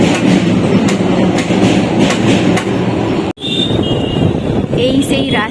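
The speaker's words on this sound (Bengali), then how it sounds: "যাচ্ছে লোকাল ট্রেন।" A local train rolls past a closed level crossing gate, a loud, steady roar with rhythmic clickety-clack of wheels on rails, cutting off abruptly partway through before a quieter stretch with a high tonal squeal.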